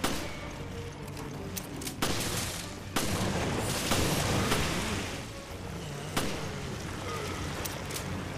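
Rapid gunfire in the Resident Evil Revelations video game, with sharp shots cracking out at irregular intervals over a dense, roaring wash of background noise, and no voices.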